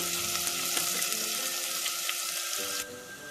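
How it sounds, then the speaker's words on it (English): Onions frying in a pan, a steady broadband sizzle close up that runs throughout and drops slightly in level near the end, with no talking. "I'm now adding the onions. So the onions we're going to cook till it's nice and golden brown"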